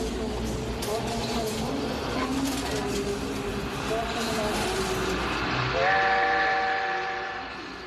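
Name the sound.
emigration train running on rails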